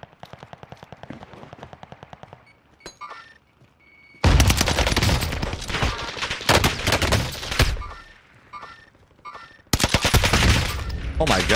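Long, rapid full-auto bursts from an H4 Blixen SMG on Rebirth Island crackle loud and close, with quieter muffled shots before them, a short pause between the two main strings of fire, and some talking mixed in.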